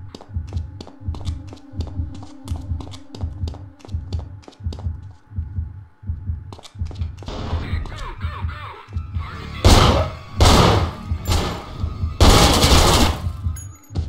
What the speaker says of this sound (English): Love the assault rifles when they appear out of nowhere.